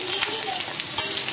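Onions dropped into hot oil with fenugreek seeds give a loud, steady frying sizzle with some stirring, close by and constant through the short stretch, with no voices.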